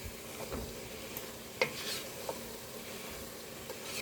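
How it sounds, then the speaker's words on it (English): Seasoned meat with onion and garlic powder gets stirred in a pan for a crockpot lasagna, soft sizzling under a few faint scrapes and one sharper clink, quiet and close without speech. "Give that a stir."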